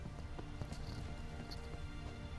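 Rain in The Witcher 3: Wild Hunt falls as a soft, steady patter with scattered drops ticking over a low constant hiss, faint and unbroken with no speech.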